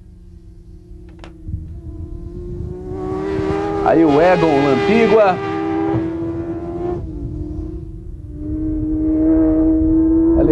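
Racing motorcycle engine at a 2003 Brazilian motorcycle road-racing championship round in Rio de Janeiro, rising and falling loudly as bikes pass, under continuous commentator speech.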